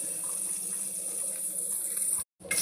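Mustard seeds and curry leaves sizzle in hot oil for a tempering, giving a steady, close hissing spatter that cuts out abruptly for a moment and then resumes, with no voices.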